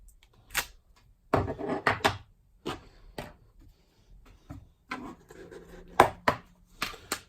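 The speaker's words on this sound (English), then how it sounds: "And just stamp that down." A rubber stamp pressed down onto paper on a hard work surface, a series of sharp close taps and thumps in irregular bursts, alone without talk.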